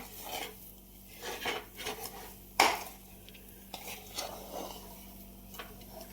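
A spoon stirring a sweet mithai mixture in a pan over a low gas flame, with quiet intermittent scrapes and clinks against the metal and one sharper knock partway through.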